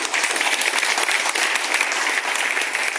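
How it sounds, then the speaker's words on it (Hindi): Loud applause at a small school ceremony where an e-rickshaw is donated to a charity: a thick, continuous wash of many hands clapping vigorously, sustained at an even level. "एक बार जोरदार ताली।"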